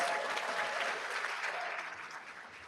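An audience at a college honor-society induction and awards ceremony applauds student tutors, a steady, moderately loud wash of clapping that eases slightly toward the end.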